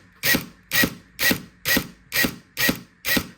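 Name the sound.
trigger clicker system of Perun airsoft FCU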